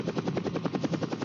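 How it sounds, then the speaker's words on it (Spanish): A helicopter landing on an expedition drop-off gives a loud, close, rapid rotor chop pulsing at a steady rhythm throughout. "El técnico en helicópteros de Codesur realiza un perfecto aterrizaje"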